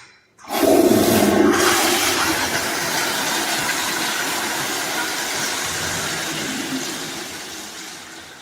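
A toilet flush sound effect bursts in loud and close after a brief silence, then settles into a long steady rushing of water that slowly fades over several seconds, with no speech.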